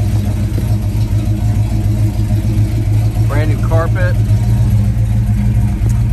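A 1969 Pontiac GTO convertible's engine idles steadily with a deep, even rumble close by, while someone speaks briefly over it.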